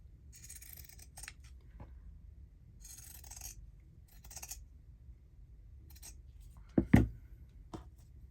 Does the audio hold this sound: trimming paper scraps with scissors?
yes